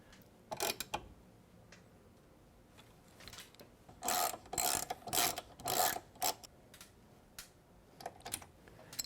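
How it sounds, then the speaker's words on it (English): Bolts on a Trektop roof for a 2-door Bronco being tightened by hand with a T50 bit and a 5mm Allen key, heard as quiet close clusters of ratcheting, clicking turns separated by short pauses. "Now we can come back with our T50 and our 5mm Allen and tighten these down."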